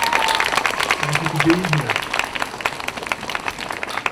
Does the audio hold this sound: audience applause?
yes